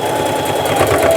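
Sewing machine running steadily while stitching a seam shut on upcycled clothing fabric, a continuous close motor whir with no talk over it.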